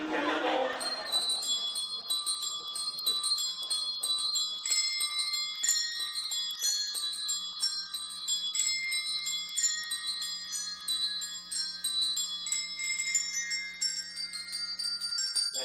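Bells ring out in a bright, sustained cascade of overlapping metallic tones during a Christmas holiday cabaret performance, loud and continuous throughout, with no voices.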